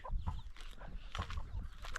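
Chickens roaming outdoors in the early afternoon, clucking in soft, repeated low bursts close by, with no voices.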